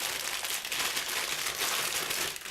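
Crinkly plastic packaging of a new bag of rope rustles and crumples continuously up close, a steady crackling texture with no talking.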